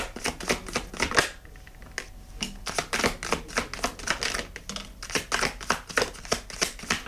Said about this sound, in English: Is the goal here kind of to just let one fall out whenever you're shuffling then?